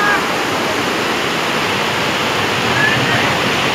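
Rain-fed waterfall on Sundha mountain by the temple, a dense, steady rush of falling water that stays loud and constant with no other sounds.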